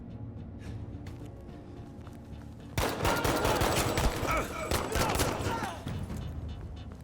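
Gunfire in the Battlefield V video game, a sudden dense barrage of loud, rapid shots that fills several seconds after a quieter start and then eases off.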